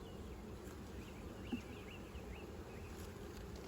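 Honeybees buzz at an opened hive, a quiet, steady insect drone that holds evenly throughout with no talking.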